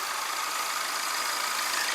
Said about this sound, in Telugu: ఇంజిన్ బీట్ కూడా పర్ఫెక్ట్గా అయితే ఉందండి